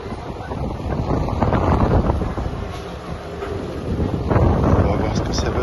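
Wind buffets the microphone aboard a passenger ferry on the Masgate–Calbayog route, a loud, steady rumbling roar that swells again near the end.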